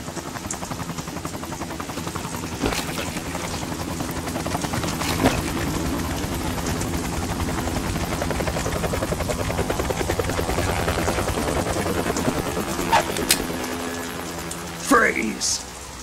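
A helicopter in the Metal Gear Solid 2 video game throbs steadily for the whole stretch with a dense, continuous rotor drone. Game effects and voices come and go over it, with a brief sharper noise near the end.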